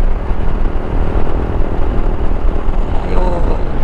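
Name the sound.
motorcycle engine while riding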